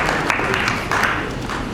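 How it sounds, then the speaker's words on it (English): Audience clapping at the Lagos International Theatre Festival, a dense steady wash of applause from a large crowd with no pause across the short stretch. "Please clap."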